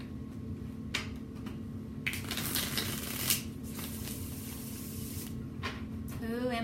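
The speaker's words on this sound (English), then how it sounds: "Who am I shuffling for?" Tarot cards being shuffled by hand in a live deck-review session, giving soft repeated riffling and flicking bursts at close range over a steady background hum.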